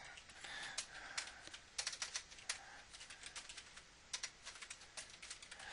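Crisp, rapid typing on a computer keyboard: uneven bursts of clicking keystrokes, close and fairly quiet, with no voices.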